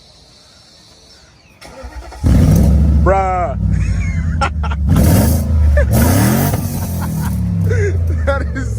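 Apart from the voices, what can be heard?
car with modified muffler revving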